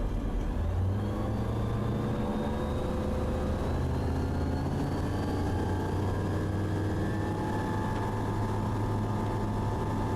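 A Sling light aircraft engine droning steadily during its takeoff roll, a loud constant propeller hum with a slowly rising pitch and no talk over it.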